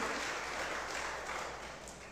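A church congregation applauds in a dense, steady wash of clapping that fades slightly toward the end, with no voices standing out.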